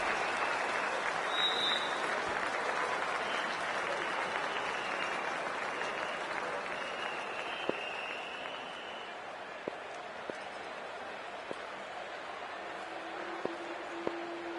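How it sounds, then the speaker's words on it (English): A crowd applauds at the start of a cricket match, a steady, fairly distant wash of clapping that holds throughout with a few sharp knocks near the end. "It's a fantastic crowd in today."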